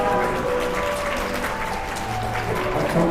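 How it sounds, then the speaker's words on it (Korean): Wedding guests applaud during the ring exchange at a ceremony, with a thick, continuous wash of clapping that sounds roomy and full, mixed with light crowd murmur and some background music or tones. "큰 박수 부탁드리겠습니다"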